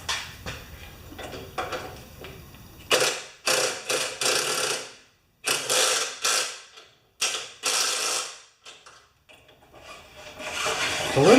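Tightening a part on a Craftsman snowblower with a ratcheting tool, producing bursts of clicking, creaking mechanical turns separated by brief pauses, close and fairly loud, no talking.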